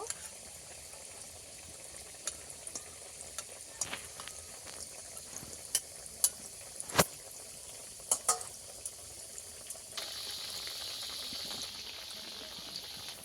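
Semolina sweets frying in oil a few at a time, a quiet steady sizzle scattered with crisp pops and crackles that swells into a brighter hiss near the end, with no talking.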